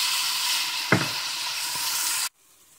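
Gandules and seasoning stirred into a pot with achiote oil, a steady loud sizzle with one brief scraping knock of the spoon partway through, then cutting off abruptly near the end.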